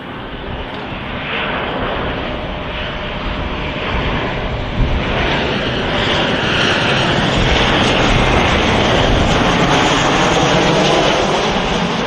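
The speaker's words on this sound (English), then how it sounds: "737-800 coming in from Dublin, Ryanair" A Ryanair Boeing 737-800 jet arriving from Dublin at Manchester Airport, its engines a steady broadband roar that swells gradually, loud and sustained throughout with no talk over it.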